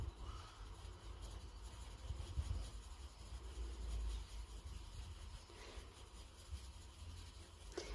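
A soft pencil scribbles on paper, a faint continuous scratching and rubbing that goes back and forth over the same spot, quiet and close with no talking.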